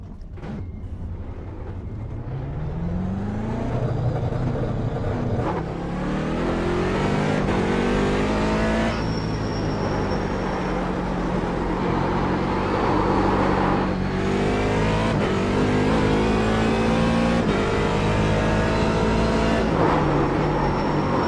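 A Corvette DP (C7) prototype race car lapping Sebring in a racing sim, its engine droning loud and close throughout, revving up through gears with rising pitch sweeps and steady high-speed roar, no voices over it.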